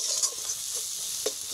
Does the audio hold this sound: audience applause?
no